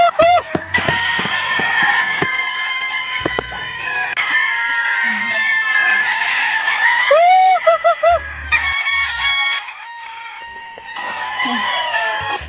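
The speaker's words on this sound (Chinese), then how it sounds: "好嘞，喂鸡走。" Chickens on a rural farm in northern Shaanxi cluck and squawk busily as they are fed, with one loud rooster crow rising midway, the birds close and continuous and occasional thuds of movement underneath.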